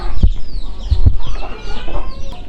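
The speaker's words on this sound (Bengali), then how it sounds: "মুরগিগুলো দেখতে পাচ্ছেন দেওয়ালের ওপর দিয়ে ঘুরে বেড়াচ্ছে" Farm chickens cluck and squawk close by, with several overlapping birds calling busily, short hollow thumps in between, and no speech.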